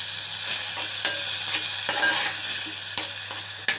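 Dalia (broken wheat porridge grain) frying in a tablespoon of butter, with a bright steady sizzle and occasional stirring scrapes, close up and fairly loud.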